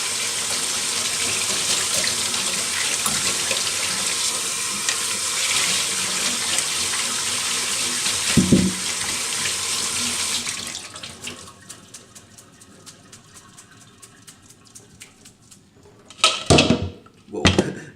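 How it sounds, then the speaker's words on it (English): Soaked oats drained through a colander in a kitchen sink under a running tap, a steady loud rush of water for about ten seconds, then quieter drips and a couple of short splashy bursts near the end. "the first thing you want to do is to get rid of all the excess water, so you just take them through a colander."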